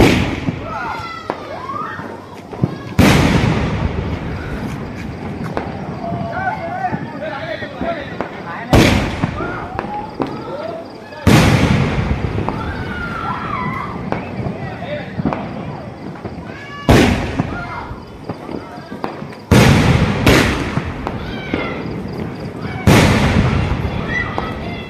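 Firecrackers burst outdoors in a string of sharp, loud bangs spaced a few seconds apart. Each bang leaves a ringing tail, and people talk and shout between the blasts.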